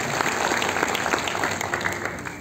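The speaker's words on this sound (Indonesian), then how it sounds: "Kasih tepuk tangan paling meriah untuk Tuhan." Church congregation applauding during a Christmas sermon, a dense, steady wash of many hands clapping together, loud and continuous throughout.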